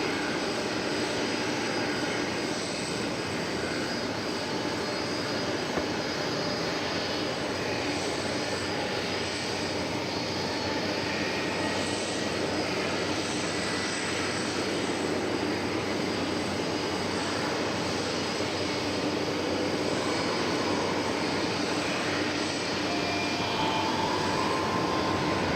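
A fixed-wing airliner takes off from runway 18 left at DFW Airport, its jet engines producing a continuous, loud, broadband roar that holds steady for about half a minute with no talk over it.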